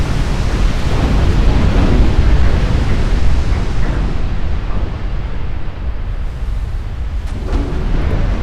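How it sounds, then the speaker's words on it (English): In the naval video game Ultimate Admiral Dreadnoughts, 120 20-inch naval guns fire continuously, merging into a loud, dense, rumbling roar of overlapping booms that never lets up. "10 full minutes of 120 20-inch guns firing away"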